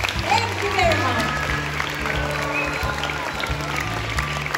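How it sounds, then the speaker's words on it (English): An audience at a kindergarten school assembly gives a steady round of applause, dense and loud throughout, while music plays underneath. "Can we please give them another round of applause?"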